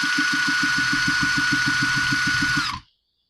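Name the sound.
trimmer engine spun over with a drill bit to check spark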